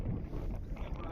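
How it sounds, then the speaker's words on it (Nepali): Strong wind blows on a hilltop at Beacon Hill fort, a loud, close, constant buffeting roar across the microphone. "हावा बेसरी चुस्छ"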